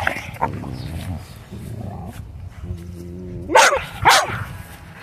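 Puppies play tug of war with a rope, growling close by, then letting out two sharp, loud barks near the end.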